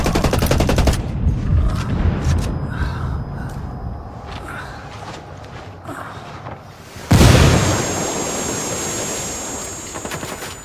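A frag grenade blast and gunfire in the tactical shooter Ghost Recon Wildlands: dense rattling shots fade into a rumbling lull, then a sharp, loud explosion bursts near the end with a ringing tail.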